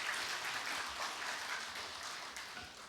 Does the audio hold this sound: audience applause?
yes